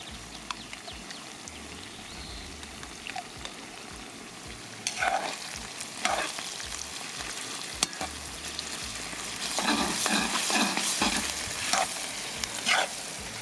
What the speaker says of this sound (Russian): томатной пастой нужно также хорошенько обжарить наши овощи